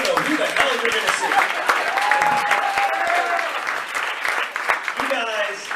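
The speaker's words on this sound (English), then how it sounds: "clap it up for yourselves for coming out on a Sunday night" A Sunday-night comedy club crowd claps loudly and steadily, with whoops and a host's voice over the applause throughout.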